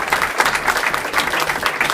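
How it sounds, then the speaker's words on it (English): Sustained applause from a crowd at a pasta dinner in a restaurant, steady clapping that fills the room without pause. "So let's have a round of applause for Roger."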